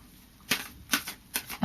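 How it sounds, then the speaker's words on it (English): Tarot cards are shuffled in three quick crisp riffles spaced evenly apart, each a short papery burst, close and clear with no talk. "so I'll just do a final shuffle"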